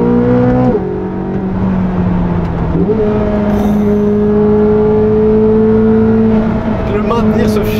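A Corvette C8 Z06's naturally aspirated V8 revs up steadily, its pitch climbing through the gears in a loud, sustained roar heard from inside the car.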